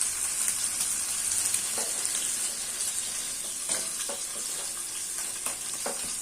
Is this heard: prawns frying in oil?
yes